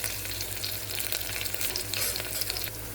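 Curry leaves sizzle and crackle as they fry in hot oil in a pot, a steady bright spitting that runs through the whole moment with no talking.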